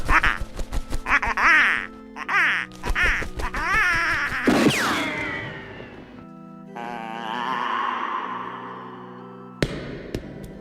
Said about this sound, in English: That was Groucho's duck.